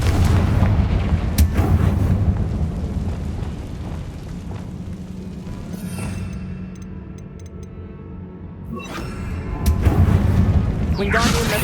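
A spell cast in Hogwarts Legacy sets off fiery booming blasts inside a tomb. A few heavy explosions land at the start and again near the end around a voice, with rumbling low noise between them.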